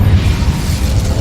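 The Incendio fire spell goes off in the video game Hogwarts Legacy with a loud, booming burst of flame that rumbles through the full second without letting up.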